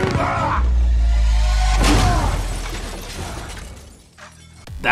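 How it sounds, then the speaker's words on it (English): A glass table smashes in a Furious 7 fight scene as a body is slammed through it, a loud crash and shattering with heavy thuds and debris settling, followed by scattered tinkling and a final impact. "the best part is when Rock hits the rock bottom on Shaw through a glass table"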